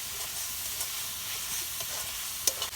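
Taro stolons stirred in a hot frying pan with chili, a steady bright sizzle of frying running throughout with light scraping stir sounds and a sharper clack near the end.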